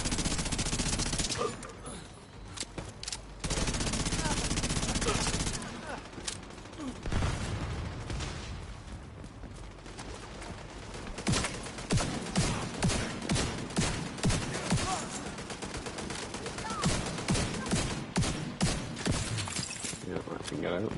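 Sustained NPC gunfire in The Division 2, dense automatic bursts and rapid repeated shots in a chaotic firefight, loud and continuous with talk and game voice lines over it.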